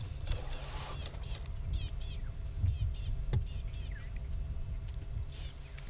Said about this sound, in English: there's birds alarm calling. Do you guys hear them?